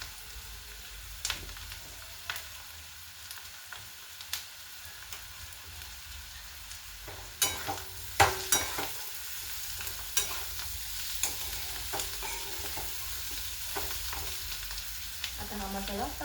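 Ground garlic and green chilli masala frying in a hot pan, a steady close sizzle broken by scraping stirs and clinks of the spoon, busier and louder in the second half.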